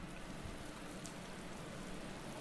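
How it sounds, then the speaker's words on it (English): Steady, dense rain hiss filling the whole stretch at the start of a wet race in the Motorsport Manager game at Tondela, unbroken and even with no talking. "so naturally it's raining to start the race"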